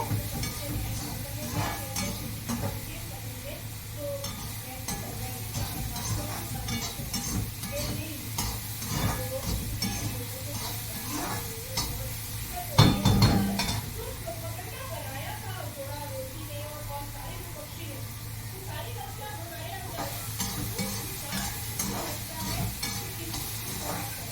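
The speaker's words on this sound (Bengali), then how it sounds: "নেড়ে ছেড়ে নেব।" A spoon stirs ridge gourd curry in a pan, with steady scraping and a low frying sizzle over about twenty seconds and one sharp clatter midway, while someone talks throughout.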